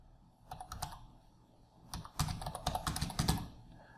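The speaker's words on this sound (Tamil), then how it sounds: "இப்போ நான் டைப் பண்ணுறேன்." Fingers type on a laptop computer keyboard. A short burst of clicking keystrokes is followed by a pause, then a longer, denser run of close, crisp taps.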